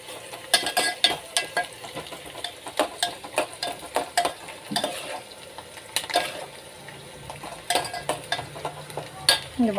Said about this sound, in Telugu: ఇదిగోండి ఫ్రెండ్స్, ఉల్లిగడ్డ అయితే వేగుతుంది.